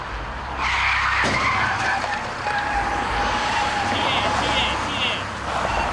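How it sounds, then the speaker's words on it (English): Loud, sustained tire squeal as a car skids on a road just before a pickup truck collision, with a sharp knock early on, followed by continuing screeching and engine noise. "It's a terrifying collision, and both drivers are lucky to survive it."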